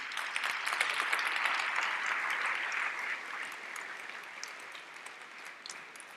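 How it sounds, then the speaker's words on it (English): Audience applause at the official opening of ERF2025, a steady dense wash of many hands clapping that stays loud for several seconds, then eases slightly toward the end. "And I would ask you for a big applause for this contribution."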